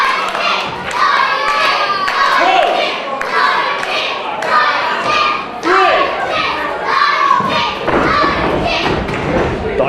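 Crowd at a live indoor wrestling match, a singles bout, clapping and cheering steadily throughout, with children's shouts and thuds mixed into the noisy hall and a commentator talking over it.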